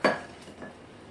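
A utensil clinks against a bowl while a milk mixture is stirred, giving one sharp clink followed by a fainter scrape, close and quiet, with no talking.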